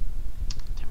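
Computer keyboard keys are pressed for a Blender shortcut, a few quick close clicks over a low background hum.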